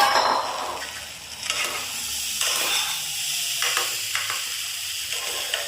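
Vegetables sizzle steadily in hot oil in a pan for sago khichdi, with repeated scraping stirs breaking through a constant close frying hiss and no one talking.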